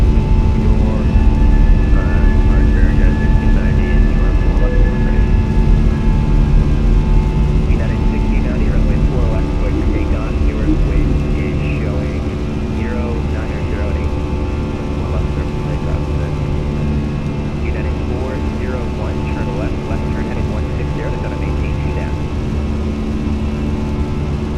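An Airbus A320 jet taking off in Microsoft Flight Simulator, with a loud continuous engine roar and steady whine that eases slightly partway, close and sustained, with a voice calling out over it.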